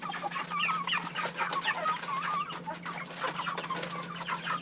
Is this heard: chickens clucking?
yes